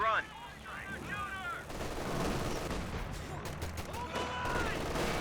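Strafing-run gunfire in Company of Heroes 2 sounds as a burst of rapid automatic shots and distant artillery-like thuds, moderately loud in a busy battlefield mix with a brief voice and chirping sounds at the start.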